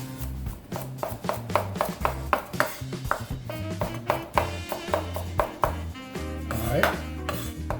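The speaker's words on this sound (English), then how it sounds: "There's sliced garlic. And you can just have at it. Just chop it up." A knife chops sliced garlic on a cutting board in a steady run of sharp, close taps, about two per second. The sound is loud and clear, with only faint kitchen background and no talking.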